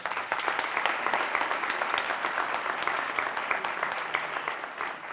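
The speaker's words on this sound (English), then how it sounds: "Give him a round of applause." Audience at an awards banquet applauding steadily for a lifetime achievement award winner, a dense, sustained wash of many hands clapping that holds level and fades slightly at the end, with no talk over it.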